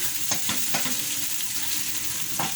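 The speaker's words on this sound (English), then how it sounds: "In a pan, add 2 tablespoons of vegetable oil, then add your chopped onion and let them cook." Chopped onions fry in vegetable oil in a pan, making a steady, close, bright sizzle with a few soft stirring scrapes, and no talking.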